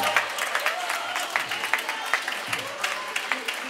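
Audience applause during a live swing music set, a steady wash of clapping at moderate volume with scattered sharper claps and some crowd murmur beneath, lasting the whole stretch.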